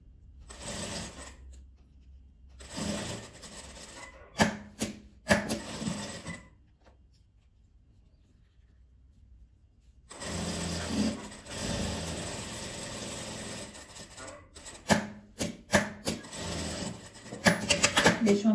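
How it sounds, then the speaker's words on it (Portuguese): A sewing machine stitches small denim scraps below a lace-trimmed ridge, running in several short mechanical bursts separated by quiet pauses, with someone talking between and over the runs. "Vou costurar abaixo desse altinho aqui"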